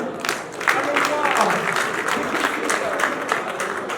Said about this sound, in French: pour célébrer justement ce partenariat, des applaudissements nourris, s'il vous plaît